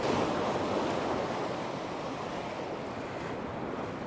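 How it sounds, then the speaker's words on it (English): Stiff easterly wind at a UK seashore on a flooding tide, roaring steadily alongside breaking surf, loud and continuous with no voices. "We've got a stiff easterly breeze."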